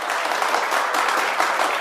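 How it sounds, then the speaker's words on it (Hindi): A studio audience at an Odia television reality show claps steadily and loudly, a dense, unbroken burst of applause lasting under two seconds with no talk over it. "जोरदार ताली"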